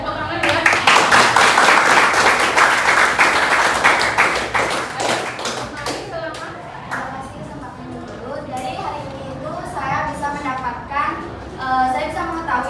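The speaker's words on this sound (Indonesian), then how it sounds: "Ini tepuk tangan ya." Classroom applause in an art and culture lesson, with a burst of dense student clapping lasting about five seconds before it gives way to someone speaking.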